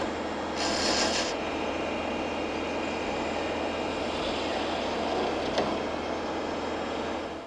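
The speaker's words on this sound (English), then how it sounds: "I'm just going to remove some of my excess wood right now." A turning gouge strips excess wood from a spinning tool handle on a wood lathe, a steady broadband rasping scrape that runs continuously at close range, with a brighter hiss near the start.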